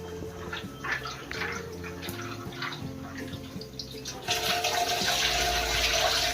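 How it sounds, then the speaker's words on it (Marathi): Raw Bombay duck fish being rinsed by hand in a bowl of water: soft drips and sloshes at first under background music, then a louder, continuous splashing and swirling near the end. "आपण ह्याला एका पाण्याने स्वच्छ धुवून घेऊ"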